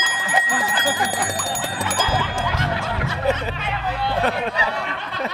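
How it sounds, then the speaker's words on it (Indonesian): A quiz bell rings with a rapid, bright, repeated metallic ding during a lively classroom-style quiz game. Voices chatter and laugh over it and carry on after the ringing stops. "Udah ngebel Pak."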